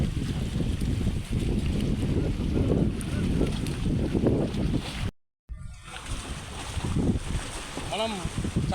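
Boat ride on a temple pond at a Lakshmi Narasimha Swamy temple, with steady broadband wind and water rush throughout, a brief dropout in the middle, and a voice talking over the ambience toward the end.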